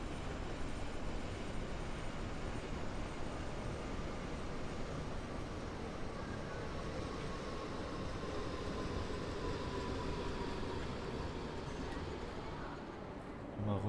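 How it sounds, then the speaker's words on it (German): A BR 422 commuter train pulls into a station on the S8 line toward Hagen Hauptbahnhof in Train Sim World 3, a steady broadband rumble and rolling hiss holding for the whole stretch, with a voice talking over it. "Da fährt ein Zug ein."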